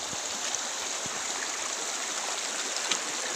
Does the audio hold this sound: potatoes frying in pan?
no